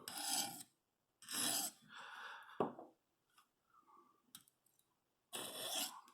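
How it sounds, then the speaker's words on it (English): Knife blade drawn across a whetstone in repeated rasping strokes, several bursts of gritty scraping separated by short pauses, close and fairly loud with no talk. "Now the whetstone is a good way to keep your knife sharp"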